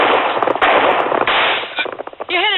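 Rapid gunfire erupts in a drama shootout, a dense burst of loud cracking shots close by, followed by a voice speaking briefly at the end.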